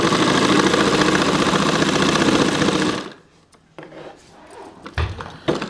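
A sewing machine runs a straight stitch down the side of a garment sleeve, whirring loudly and steadily for about three seconds before stopping, followed by quiet handling knocks and bumps.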